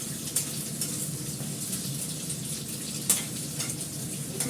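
A tempering for dal sizzles in a pan, a steady moderate frying hiss with a few sharp clinks of a utensil against the pan.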